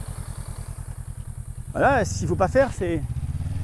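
A motorcycle at a riding-school practice lot putting along at a low, even idle with a steady pulsing beat, nearby, soon joined by an instructor talking over the engine.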